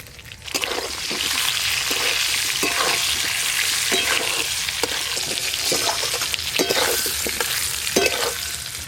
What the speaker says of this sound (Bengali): ওই মাছ ভাজার তেলে বেগুনগুলোও ভালো করে ভেজে নেব।